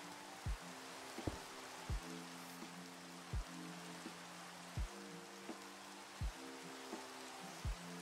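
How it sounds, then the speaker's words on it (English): Rain falls steadily in the video game Minecraft as a soft, constant hiss. Low, muffled thuds come through it at regular intervals. "Of course, it's got to start raining."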